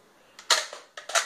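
Gunshots in a target shooting round: two short sharp cracks about half a second apart, each with a brief echo, close and loud over near silence.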